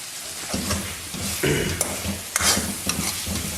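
Chicken karahi frying over high heat in a wok-style karahi, a steady close sizzle with scraping stirs and a few sharp utensil knocks against the pan.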